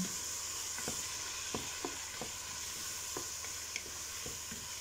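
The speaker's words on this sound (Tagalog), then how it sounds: "Halo-haluin natin siya hanggang madurog ng kaunti ang kamatis." A spoon stirs rice with tomatoes in a pan, giving soft scraping strokes at an irregular rhythm over a faint steady sizzle, close by with no voices.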